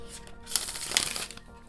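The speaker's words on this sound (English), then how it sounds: "And the way it shuffles is absolutely amazing as well" A matte gold oracle card deck is shuffled by hand in a few quick riffling bursts, soft and close, with brief pauses between.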